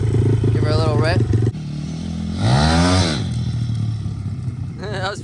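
A 2014 SSR 160TX dirt bike revs loudly up close, its engine climbing and falling in pitch, then dropping back to a rough idle before another short blip. Voices talk over the engine noise.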